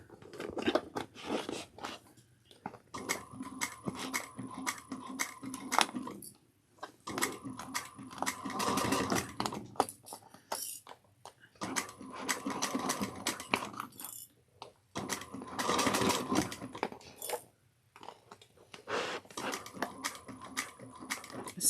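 A sewing machine stitches a bucket bag in several bursts separated by short pauses, with rapid clattering and crunchy handling noise as the fabric is shifted.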